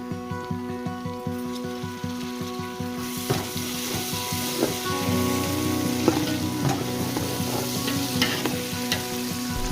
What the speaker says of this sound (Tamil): கட் பண்ணி வச்ச தக்காளியை போட்டுக்கிறேன்